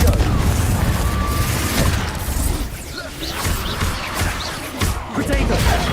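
A Confringo spell explosion in the video game Hogwarts Legacy, a loud booming blast with crashing impacts and whooshes, dense combat noise throughout.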